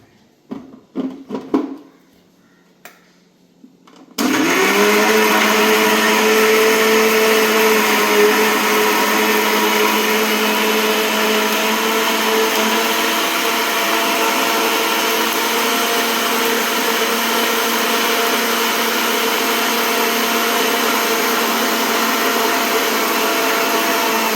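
A mixer grinder whirs loudly and steadily after a few brief clicks and knocks, grinding fried onion with water into a paste, a constant high-pitched motor drone with no pauses.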